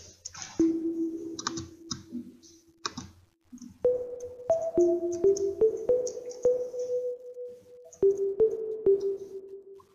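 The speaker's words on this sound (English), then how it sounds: "I'm gonna show you this is how I make the bell sound" Synthesized bell-like piano tones made in FL Studio ring out one after another, each note struck cleanly and sustaining briefly, with small clicks between notes.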